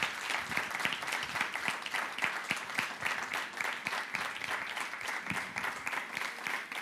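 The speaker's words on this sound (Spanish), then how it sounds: "queremos darles el abrazo y el apoyo, el aplauso." A church congregation in Spain applauds a welcome, steady dense clapping from many hands filling the room for several seconds with no talk over it.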